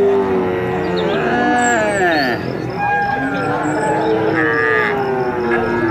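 A water buffalo moos in a long, wavering call during play with toy animals, with a voice talking over it and background chatter throughout.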